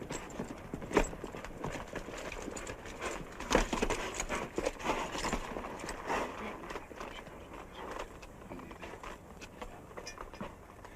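Horse hooves clip-clop on the ground in an uneven walking rhythm, moderately close, with sharp clustered hits and faint rustling in between.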